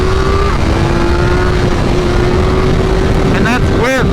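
A 2023 BMW M1000R motorcycle with a flash-tuned ECU, ridden at speed: a loud, steady engine drone with a sustained tonal whine and heavy wind roar throughout, and a few brief higher warbling tones near the end.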